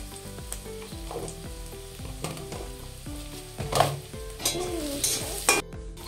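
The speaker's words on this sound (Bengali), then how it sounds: "পেঁয়াজগুলো একটু লাল করে ভাজবো, হালকা লাল করে" Onions fry in oil in a pan, sizzling steadily up close while a spoon scrapes and clinks against the metal in repeated stirring strokes, with no voices.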